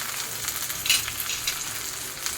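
Chilies sautéing in a pan, a soft continuous sizzle and crackle of frying with a few brief stirring scrapes, close but fairly quiet, no talking.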